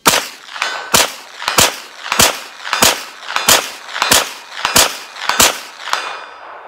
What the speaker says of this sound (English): Now let's bang on some steel at a distance. Okay, real quick here using this SAR ammo, let's just see what we can do at 100 yards.